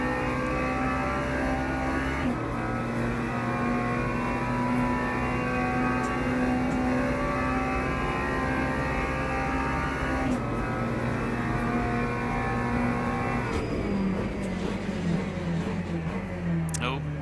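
In a GT3 race at Monza in a racing video game, engines whine and rev continuously with several upshifts, loud and steady throughout.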